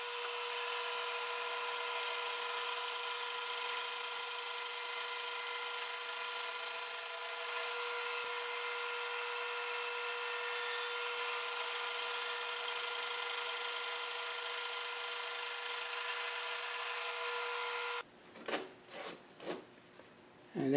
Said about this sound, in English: And there I produce 14 slices of wood from that one block of segmented maple.